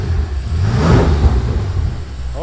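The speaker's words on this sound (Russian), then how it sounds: "Машина, как слышите, работает." A 2019 BMW X6M engine running and revving, a loud, deep rumble that swells into a rev and then settles back to an uneven, throaty burble close up.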